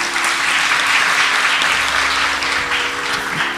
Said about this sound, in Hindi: एक जोर से ताली हो सकता है कि